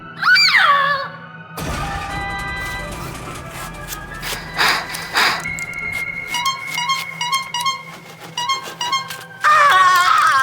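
A meme clip plays a loud, piercing scream, then a cluttered stretch of crashing and musical sounds, and the screaming returns sharply at the end.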